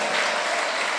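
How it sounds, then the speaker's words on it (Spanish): Church congregation bursts into loud, close applause, a thick unbroken roar of clapping filling the room. "Denle un aplauso al Señor."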